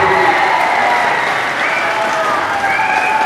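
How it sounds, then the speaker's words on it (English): An audience at a public appearance by George St-Pierre in North Battleford breaks into sustained applause, a steady wash of many hands clapping at a loud, even level, with some voices cheering in the crowd. "Everybody, let's give him a round of applause, show our appreciation."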